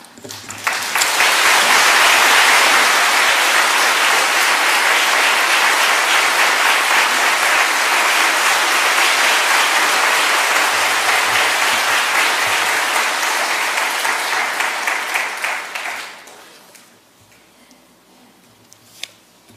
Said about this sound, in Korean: 이렇게 나오실 때 우리가 박수로 좀 환영하겠습니다